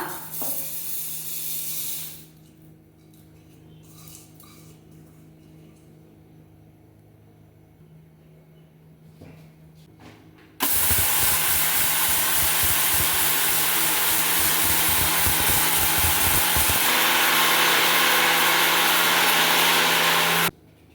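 An electric grinder powders 2 kg of fried rice for Christmas kuswar rice laddu, first at a quieter whir, then a loud, steady, roaring grind with rattling grains for about ten seconds before stopping.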